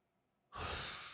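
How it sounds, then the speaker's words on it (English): A long, breathy exhale swells up suddenly and holds, like a drawn-out yawn close to the mic, quiet and alone without speech. "That was my yawn just now"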